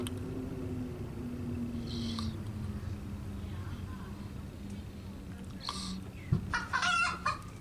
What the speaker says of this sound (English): Something has the hens spooked.